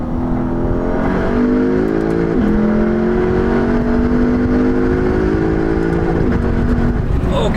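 V8 muscle car engine revving hard after a downshift to second gear, a loud, close, rising roar with quick pitch changes between shifts, heard alone without talk.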